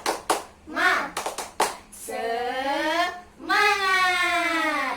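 Children in an Indonesian classroom do the "tepuk semangat" rhythmic clapping chant, a quick burst of sharp claps followed by loud sustained shouting voices in unison, fairly near.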